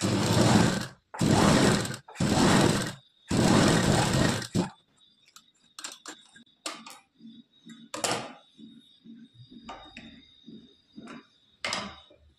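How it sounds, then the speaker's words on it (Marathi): A sewing machine stitches a blouse strip folded over by half an inch, running in four loud, steady bursts before giving way to quieter scattered clicks and ticks. "ती पट्टी आता एक बाजूने 1/2 इंच इतकी दुमडायची आणि स्टिच टाकून घ्यायची"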